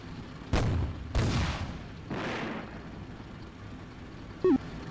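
Mortar rounds firing in the WWII strategy game Combat Mission Beyond Overlord: three loud booming discharges about half a second apart, each decaying into a rumble, followed by a brief faint tone.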